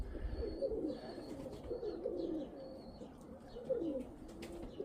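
Young pigeons coo softly in repeated low warbling phrases, fairly close but quiet, with faint higher chirps scattered among them.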